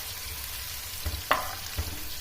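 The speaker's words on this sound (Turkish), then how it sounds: "Şimdi soğanımız tembelleşene kadar kavrulacak." A steady broadband sizzle of chopped onions frying in a pan, with a few soft clinks and stirring knocks breaking through the continuous hiss.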